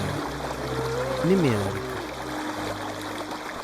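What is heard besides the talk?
sound of a waterfall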